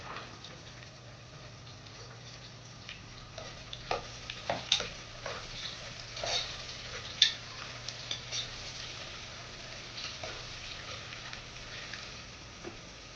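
Finely chopped onion frying in a pan for Godavari-style prawn biryani, a steady low sizzle with scattered scraping and clicking taps from stirring, close and moderately quiet, no talk.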